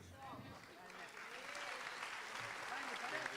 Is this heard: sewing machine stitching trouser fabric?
no